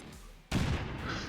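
A grenade detonates in a tactical video game with one sudden, heavy boom that cuts in sharply and rolls on as a rumbling blast tail.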